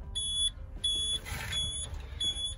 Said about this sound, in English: Beeping's good.